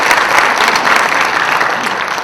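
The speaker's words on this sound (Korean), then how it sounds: "박수 한번 치세요." Audience applause at a youth lecture concert, loud sustained clapping from a full hall, dense and even throughout with no voices over it.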